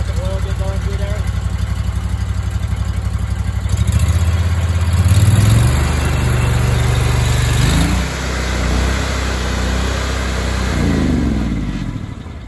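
A new Honda GX630 engine, a replacement for a blown GX690, warms up at idle with fresh oil, a loud steady chugging drone that swells briefly in the middle and then settles back to an even idle.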